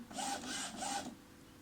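An Epson inkjet printer's carriage slides slowly back and forth in three smooth mechanical passes during startup, a soft whirring hum close by, then fades to quiet.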